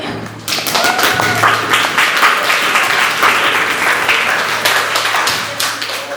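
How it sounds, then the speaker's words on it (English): Loud, dense applause from an audience fills the space, steady clapping sustained throughout with a brief swell at the start and a slight tapering near the end, no talk over it. "So give yourself applause and encourage yourself."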